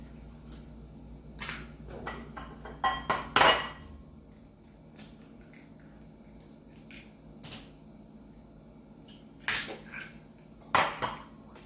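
Separating egg yolks from whites over a bowl while making ube mamon: sparse sharp clinks and taps of shell and utensil on a bowl, in small bursts with quiet pauses between.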